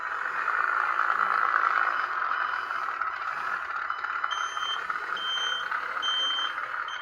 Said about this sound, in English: And then it has a reverse beeper.